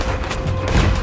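Cannon fire rings out in Red Dead Redemption 2 during a naval battle, loud booming blasts layered over a dense barrage of other shots in a short, busy burst.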